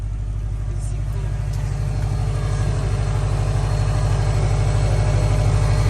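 A Subaru WRX, said to overheat at idle, sits idling with a steady low rumble and a slight rhythmic pulse, close and constant throughout, with faint hiss above.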